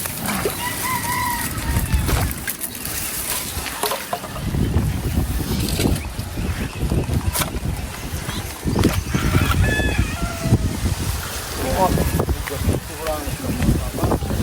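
Chickens cluck and a rooster crows nearby, heard under wind noise and people talking outdoors.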